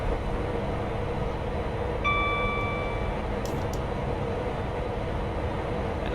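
A Class 92 electric locomotive rumbles along the line across London in the Train Sim Classic game, a constant loud rolling drone with a brief tonal whine partway through.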